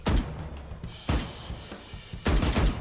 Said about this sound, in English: you can fire while you are slow moving